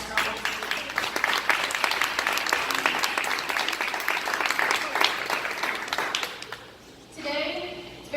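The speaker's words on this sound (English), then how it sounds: "I will give another round of applause for all" A forum audience gives a round of applause after a panel discussion on guns, violence and diversity, with sustained clapping that fades out near the end before a brief burst of voices.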